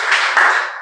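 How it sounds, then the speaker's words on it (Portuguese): A church congregation claps together during a Portuguese-language worship service, a brief, dense burst of many hands with no pause and no voices over it. "Agora aplauda Jesus."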